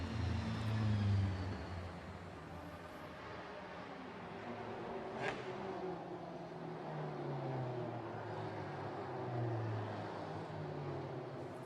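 GT racing cars weaving on the Macau street circuit to build tyre heat ahead of the Greater Bay Area GT Cup, a steady low engine drone with rising and falling revs, fairly distant and continuous throughout.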